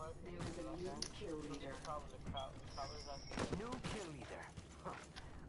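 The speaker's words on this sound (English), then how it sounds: "I hear some gunshots." Gunfire in a PS4 video game, a burst of sharp distant shots partly buried under continuous talking from a player.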